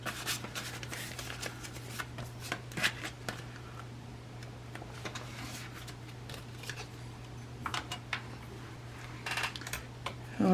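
Paper cash bills being handled and slipped into sinking fund envelopes, with soft close rustles, flicks and crinkles in irregular bursts over a low steady hum, no talk.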